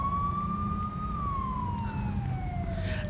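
An ambulance siren in the video game Overclocked wails with a slow falling pitch sweep, steady and fairly close over a low rumble, with no talking.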